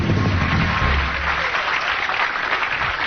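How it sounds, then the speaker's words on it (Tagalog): Audience applauding a contestant at a live event, a steady, loud wash of clapping from a crowd that fills the whole stretch without a break. "Put your hands together for the very confident candidate number 3."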